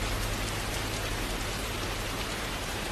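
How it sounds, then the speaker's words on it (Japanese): Rain falls steadily and densely, a constant even hiss of drops on surfaces with no breaks and no voices. "この雨 やむかな。"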